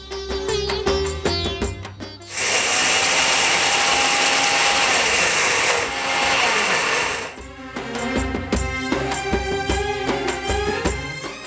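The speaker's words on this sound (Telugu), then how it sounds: "ఇలా కొంచెం బరకగా ఉండేటట్టు మిక్సీ పట్టుకున్నాను" Mixer grinder coarsely grinding sago (sabudana) for halwa: a loud, steady high-pitched whirring motor in two runs of a few seconds each, with a short pause, between quieter stretches of background music.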